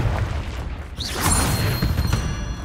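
A Confringo spell in Hogwarts Legacy detonates with a deep boom and crackling crash, followed by rumbling debris and scattered game effects at moderate loudness.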